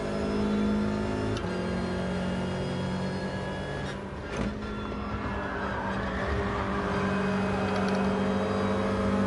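A Subaru race car in a racing video game, its engine droning and revving steadily with shifting pitch and a sharp gear change early on, loud and continuous with no talking.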